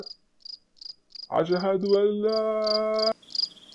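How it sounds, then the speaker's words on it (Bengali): Crickets chirp loudly at night in an animated cartoon, a steady train of short, evenly spaced chirps running throughout, while a man's chanted call to prayer rises over them in the middle. "ঝিঝি পোকার ডাক শোনা যাচ্ছে প্রবলভাবে।"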